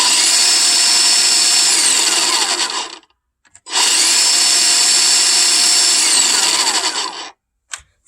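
Kobalt 40-volt battery chainsaw running in two loud, steady bursts of about three seconds each, separated by a short pause, with a high electric whine and chain rattle and no voices.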